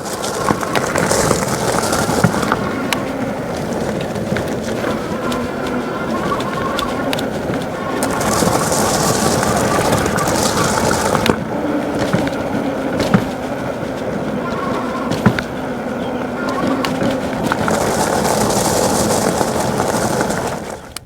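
Movcan V60 Pro electric bike rolling over gravel, a continuous close crunching and rattling rumble with bumps throughout, briefly joined by bird cooing.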